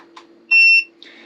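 A tyre pressure monitor on an off-road caravan setup gives one loud, clear electronic beep of about a third of a second, with a steady low hum and faint clicks around it.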